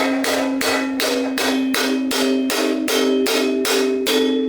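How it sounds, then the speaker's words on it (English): A hammer strikes a custom crash cymbal during shaping, about eleven evenly spaced metallic hits, each ringing bright and shimmering before the next, close and loud with no talk. "we're gonna just hammer it to support that section a little more"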